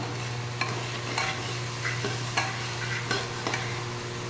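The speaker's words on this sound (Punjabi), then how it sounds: "ਇਹਨੂੰ ਆਪਾਂ ਸਿਰਫ 2 ਮਿੰਟ ਲਈ ਇਹਨਾਂ ਦੇ ਨਾਲ ਸਬਜ਼ੀਆਂ ਦੇ ਨਾਲ ਆਪਾਂ ਇਹਨੂੰ ਭੁੰਨ ਲਵਾਂਗੇ" Mixed vegetables and spices sizzle as they roast in a pan for pulao, with a steady frying hiss broken by the regular scrape and clatter of a spoon stirring, close and without talk.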